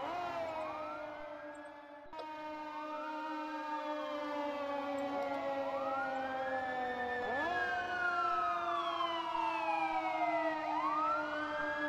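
Wailing ambulance and fire truck sirens from the city-building game Cities Skylines, several rising and falling tones overlapping continuously and loudly for the whole stretch, with no talking.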